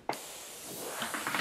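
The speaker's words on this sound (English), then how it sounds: "And give a few sprays." A spray bottle nozzle mists a water mix onto a rose, giving a close, continuous soft hiss with a couple of slight surges, no voices.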